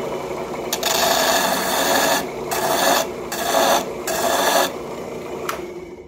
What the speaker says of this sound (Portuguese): Então eu chego aqui na lixadeira, passo